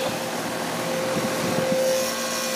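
A 2009 York Latitude high-efficiency heat pump runs in heat mode outdoors, giving a steady, loud mechanical whir and fan drone with a constant tonal hum throughout and no talking.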